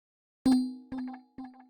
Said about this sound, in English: the sound that I'm going to be introducing to you guys is this bell sound